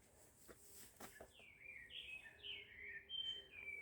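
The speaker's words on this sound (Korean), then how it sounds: "새소리" Birds sing on a mountain trail, a run of bright descending whistled notes following a few sharp clicks, faint and somewhat distant against quiet outdoor air.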